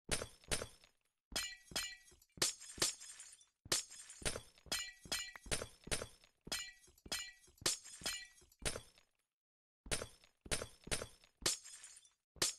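Blocks are broken in a video game with a glassy shattering sound, repeated in rapid bursts of crisp breaks separated by short pauses over about thirteen seconds, with no talking.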